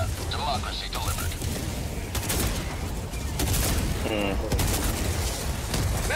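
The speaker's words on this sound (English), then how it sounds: "Firing orbital barrage" Orbital barrage strike fire in the video game Helldivers 2, a dense run of booming explosions and gunfire-like blasts filling the scene continuously, with players talking over the chaos.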